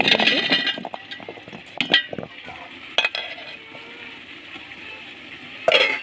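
Malabar spinach being stirred in a pot for khichuri, giving intermittent scraping and clinking strokes with brief sharper knocks, close and moderately loud, no talking.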